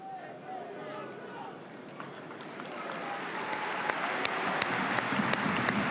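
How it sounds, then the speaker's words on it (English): Stadium crowd at a Bayonne versus Union Bordeaux Bègles Top 14 rugby match applauding as a player is taken off, a broad crowd roar with scattered claps that swells in the second half beneath a commentator's voice. "And a second round of applause."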